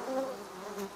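Honeybees in the video game Ghost of Tsushima buzz close and clear in a brief, steady drone.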